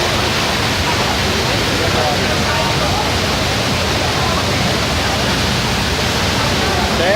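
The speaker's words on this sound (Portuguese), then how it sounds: "você tem que falar da cachoeira. Cachoeira Roncador." Roncador waterfall roaring as a steady, loud, dense wash of falling water with no breaks, close by and constant throughout.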